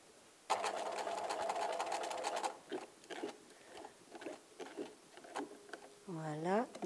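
Domestic sewing machine stitching fabric after a broken needle was replaced, a fast steady mechanical run of about two seconds, then quieter intermittent handling sounds and someone speaking close by.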